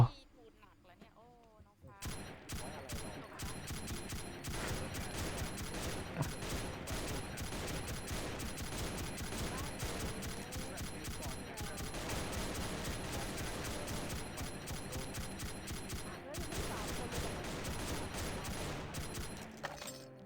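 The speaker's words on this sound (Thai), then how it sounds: "เดี๋ยวยิงไปเรื่อยๆ แล้วเปลี่ยนลูกอย่างช้าเลยปืนนี้" Rapid, continuous gunfire from a mummy-themed shooter game, a dense unbroken barrage of shots that sounds loud and close and runs for about eighteen seconds after a brief quiet start.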